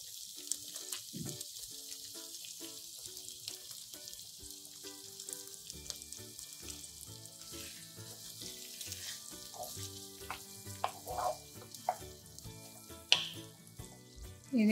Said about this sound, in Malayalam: ഇനി ഈ ചിക്കൻ്റെ ഗ്രേവി ഇതിലേക്ക് ഒഴിക്കാം.